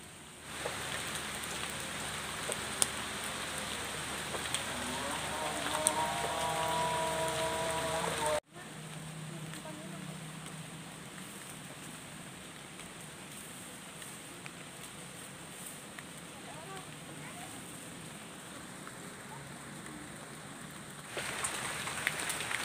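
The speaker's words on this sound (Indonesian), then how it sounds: "Hujan. Iya, hujan." Steady rain falls over a rice paddy, a dense hiss that continues throughout with a brief break, and a few faint voices in the first part.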